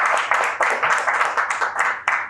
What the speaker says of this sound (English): I've never had a clap before the start.